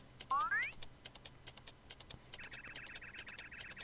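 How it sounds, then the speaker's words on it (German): Rapid, even patter of a character typing in a Super Mario RPG fan game, steady bursts of small clicks running throughout at low level, with a brief rising tone near the start and a faint voice underneath. "was tippt der Igitt da eigentlich die ganze Zeit?"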